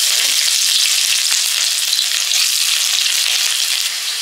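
Bay leaves, cinnamon and cloves fry in hot oil at the start of a masala rohu fish curry, giving a loud, steady, crackling sizzle that runs unbroken from start to end, with a few faint stirring knocks and no voices.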